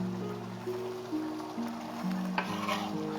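Chopped onions hit a pan of frying pork and sizzle at a soft, steady hiss under a low background drone, with a faint clatter partway through.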